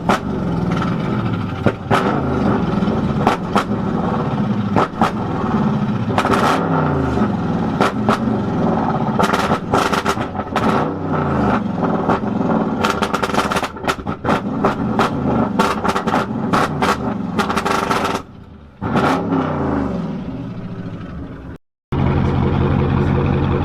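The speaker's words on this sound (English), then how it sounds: "Okay, so we're revving up." A Corvette C7 fitted with a ProCharger revs repeatedly, loud and close, with rising surges, abrupt cutoffs and sharp pops, ending in a brief dropout before the engine settles back to a rumbling idle.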